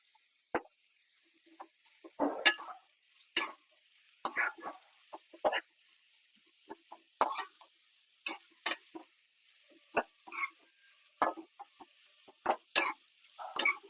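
Onions with salt and turmeric in a pan, stirred in scattered bursts of scraping and clinking separated by near silence, close but not loud, with no talking and only a faint sizzle.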